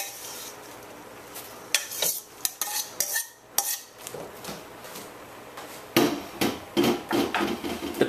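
Chopped okra tipped into a pot of cooked-down spinach for callaloo, giving sharp clattering knocks of utensil against metal pot, scattered through the clip and busier toward the end, with no talking.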